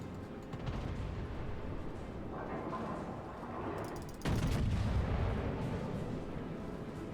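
Warship guns fire in the World of Warships naval combat game, a rumbling barrage with a heavier boom midway, followed by a sustained roar.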